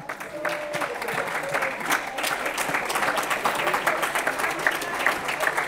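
A church congregation at a Sunday worship service applauds and cheers for the Lord, steady dense clapping from a crowd filling the room for several seconds, with a few voices mixed in.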